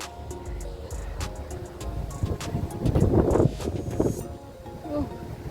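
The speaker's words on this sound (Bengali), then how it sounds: "প্রচণ্ড হাওয়া দিচ্ছে" Strong wind gusts across a riverside on the Netherlands–Belgium border near the village of Eijsden, a steady low roar with broad buffeting and rumble that swells in the middle before easing slightly.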